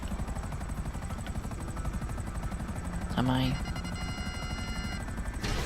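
Helicopter in the video game GTA V hovering low with a steady, loud rotor and engine drone, a gunfire-like burst partway through, and a brief voice over it.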